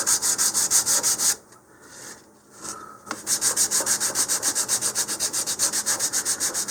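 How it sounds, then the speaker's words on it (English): Wooden airfoil fins for an upgraded Estes Star Orbiter model rocket being face-sanded with sandpaper, a steady rhythmic back-and-forth rasp of many close strokes, briefly pausing midway before resuming. "looks like I need a little more face sanding there"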